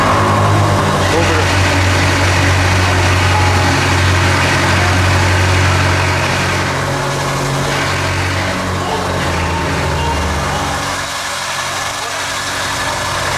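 A blacked-out BMW M5 idles loudly up close with a deep, steady rumble that settles and drops lower near the end, while voices can be heard talking over it.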